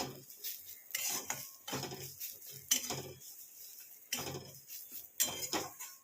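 Black cumin seeds being fried in ghee, heard mostly as repeated clinking and scraping of a metal spoon against a pan in irregular bursts, with only a faint sizzle underneath.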